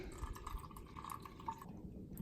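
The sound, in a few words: homemade Instant Pot wine poured through coffee filter into bottle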